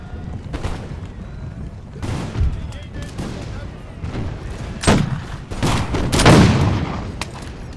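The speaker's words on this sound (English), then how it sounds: "Love also seeing just the cannon fire raining down there." Cannon and musket fire in the Imperial Splendour mod of a Napoleonic-era strategy game, a battlefield rumble of booms and crackling shots spread over the scene, with a few louder nearby blasts standing out from the steady roar.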